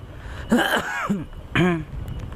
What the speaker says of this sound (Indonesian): Maaf sampai batuk